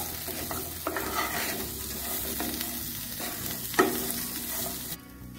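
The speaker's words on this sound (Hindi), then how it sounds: "अब इसमें सिंगाड़ों को डाल देंगे हम और नमक डालेंगे। अब इनको मिक्स कर देंगे।" Water chestnuts with salt and spices are stirred in a hot pan, sizzling steadily close up with occasional scraping strokes, and the frying noise drops off abruptly near the end.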